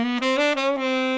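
Saxophone runs a jazz approach-note pattern, sliding chromatically into the third of the chord: a short, loud, bright legato line of four or five connected notes played alone.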